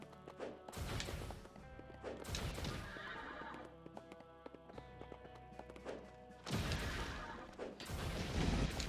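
A robotic servo horse in the video game Narita Boy neighs in several loud bursts, mixed with clip-clop hoofbeats and heavy crashing impacts, all close and prominent with no talk.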